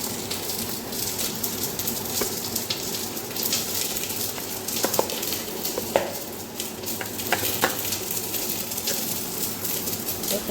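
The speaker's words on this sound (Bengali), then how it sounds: "এখানে মাছ ভাজা এখন চলছে" Fish fries in a pan with a light amount of oil, giving a steady, dense sizzle with occasional sharper pops and crackles, close and continuous throughout.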